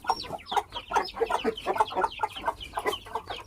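Chickens cluck in quick, overlapping bursts close by, a busy run of short calls without pause across a few seconds.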